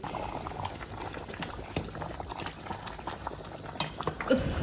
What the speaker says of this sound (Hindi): पानी डाला था और चावल बॉईल हो रहे हैं